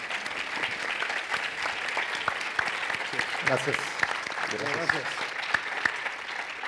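Audience applause for panelists at an innovation panel discussion, a steady moderate clapping that runs throughout while a voice speaks briefly over it near the middle.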